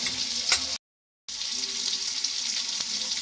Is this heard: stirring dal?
yes